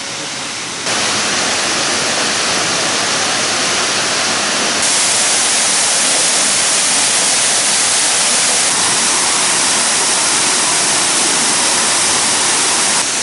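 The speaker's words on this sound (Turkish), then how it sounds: "şelalelerimizin e, birinci kısmındaki şelalemiz" A waterfall at Kayalıdere (Aşağı Kayadırı) village near Zonguldak Ereğli gives a steady, loud, broadband roar of rushing water that swells after the first second and carries on unbroken, with no voices.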